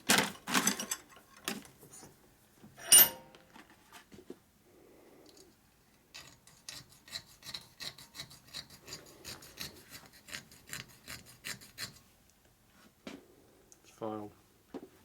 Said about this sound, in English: Backyard ring filing.